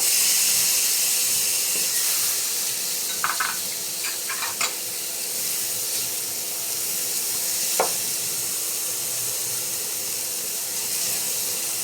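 Garlic and onion sautéing for ginataang alimasag, a loud continuous hissing sizzle with a few sharp clicks and scrapes of stirring scattered through, no talk.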